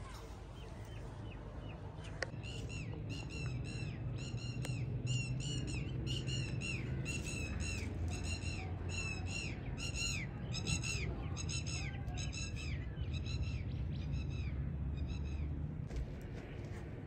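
Pigeons being released and caught outdoors give a long run of repeated harsh squawking calls, steady and fairly close over a low rumbling background, with no talk.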